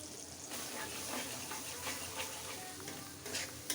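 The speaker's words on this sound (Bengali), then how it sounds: "এখন তেলের মধ্যে দিয়ে দিব" Spice paste of cumin, turmeric, chilli and coriander powder mixed with water sizzles steadily in hot oil, a continuous close frying hiss with some stirring, no voices.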